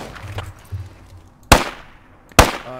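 Two sharp, loud gunshots ring out a second apart in the video game Squad Ops, above a low, murmuring background.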